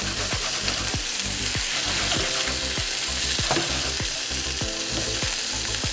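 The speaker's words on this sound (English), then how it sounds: "Once you've got a good sear on the other side of your halloumi" Halloumi slices sear in a hot pan with a loud, dense, continuous sizzle and a repeating scrape or shake of the pan, close up and with no voices.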